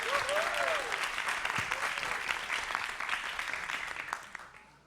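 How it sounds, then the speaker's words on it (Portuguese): Enthusiastic audience applause at a public hearing on a bill reserving company jobs for travestis, with a brief rising cheer or whistle at the start over dense, continuous clapping that tapers off. "Palmas para ela!"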